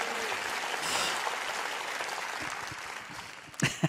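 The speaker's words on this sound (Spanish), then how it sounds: "Denles un buen aplauso, claro, por favor." Steady applause from a church congregation fills the room, continuing throughout before a couple of sharper knocks near the end.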